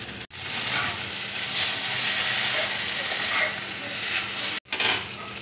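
Paneer hits a hot pan and sizzles steadily with a bright, hissing crackle that holds for several seconds, broken by two brief cuts.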